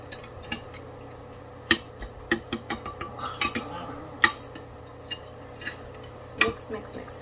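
Spoon stirring a coffee mixture with cocoa and cinnamon in a bowl, giving scattered sharp clinks and taps against the sides over a quiet background, with no talking.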